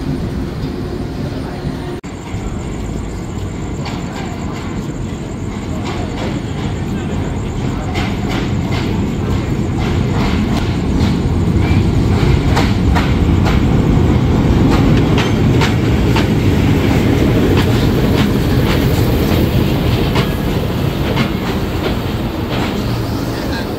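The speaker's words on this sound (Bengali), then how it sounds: "এটা হলো খুলনা থেকে ছেড়ে আসা চিলাহাটিগামী রকেট মেইল ট্রেন।" The Rocket Mail train from Khulna to Chilahati rolls past near a platform, a loud continuous rumble of wheels with rhythmic clickety-clack from the passing cars, sustained throughout without any talk.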